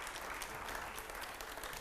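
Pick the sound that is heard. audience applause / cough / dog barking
audience applause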